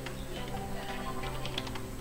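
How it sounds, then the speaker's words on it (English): Quick, faint keystrokes as a command is typed on a computer keyboard, a short run of soft ticks over a steady background hum. "So for that you need to type"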